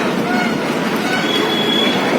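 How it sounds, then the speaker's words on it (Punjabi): A train rumbles close by at Patiala railway station with a dense, steady roar and faint metallic wheel squeals running through it. "ਰੇਲਵੇ ਸਟੇਸ਼ਨ ਪਟਿਆਲੇ ਦਾ"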